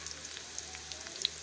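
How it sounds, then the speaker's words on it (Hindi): Browning onions fry with black pepper and cloves in a pan, a faint, steady sizzle with scattered small pops and crackles. "तकरीबन 2 मिनट इनकी भुनाई करेंगे।"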